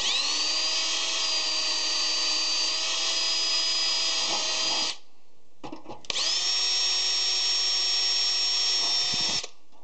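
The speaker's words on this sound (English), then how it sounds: "I already pre-drilled the holes in the aluminum" A power drill whines at a high steady pitch while drilling holes in aluminum, in two long bursts separated by a short pause, close and loud.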